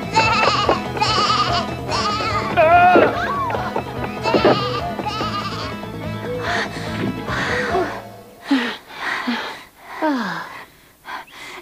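A goat in an overly small stable, from an animated Snow White tale, bleats and wheezes in strained, gasping cries, first over a busy musical bed and then in several louder, more isolated bleats near the end.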